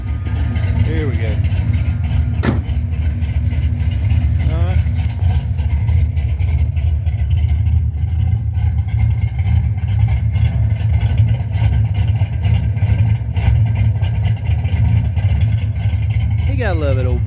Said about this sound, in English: I told you I'd give you a video of this thing running with the new exhaust